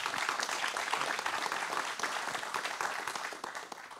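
Crowd at a stage event with a TCU figure breaks into sustained applause, a continuous, fairly loud mass of clapping with scattered individual claps standing out throughout.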